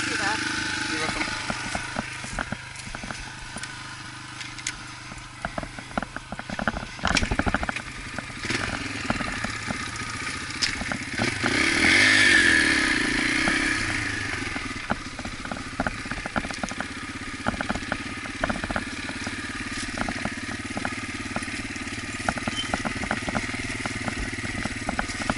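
An engine runs in first gear at Cooper Creek in Deepwater, Missouri, a steady mid-pitched motor drone with clattering under it, rising briefly midway and continuing under intermittent talk.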